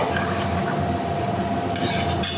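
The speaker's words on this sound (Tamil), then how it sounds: "ஒரு டைம் நல்லா கலந்து விட்டுறலாங்க" A utensil scrapes and stirs through brinjal dal rice in a pressure cooker, with a steady low bubbling background and a faint metallic clink near the end.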